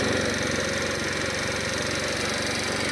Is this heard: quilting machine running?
no